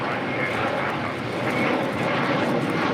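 Jet airliner roaring on takeoff from runway 25 Right at LAX, a loud, steady broadband engine rumble that holds evenly for a few seconds without any voices.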